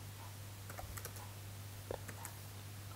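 Keys on a computer keyboard are tapped in short scattered clicks while PHP code is written, faint and sparse above a steady low electrical hum, with no voices.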